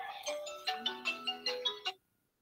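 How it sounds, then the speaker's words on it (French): A mobile phone ringtone plays during a lecture on the Mont-Blanc massif natural environment, a bright repeating melodic pattern of about eight pulsing notes, fairly close and clear, then cutting off abruptly into silence. "Ah, excusez-moi, il y a mon téléphone"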